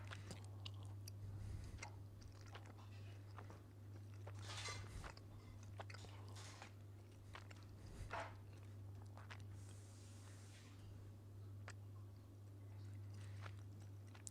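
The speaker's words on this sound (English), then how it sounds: "Pardon the chewing. Just finishing up a snack before I started the game." A snack is bitten and chewed close to the microphone, faint but crunchy, with irregular bites and mastication over about fourteen seconds above a low steady hum.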